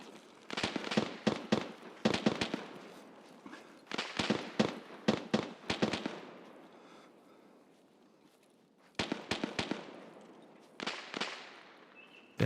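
Distant gunfire in the Escape from Tarkov video game comes in rapid bursts of sharp cracks, several clusters separated by brief quiet gaps, faint and far off with no talk over it.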